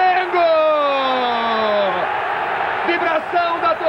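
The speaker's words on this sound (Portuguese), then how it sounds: "Vibração da torcida aqui no Maracanã" A football crowd at Maracanã stadium roars after a goal, a loud sustained cheer with whoops and yells under excited commentary.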